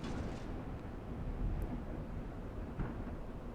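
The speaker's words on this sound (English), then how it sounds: "let's listen to that thunder" Rolling thunder rumbles through a gray storm in the Demon's Souls video game, a dense, steady low roar that stays loud throughout, with no voices over it.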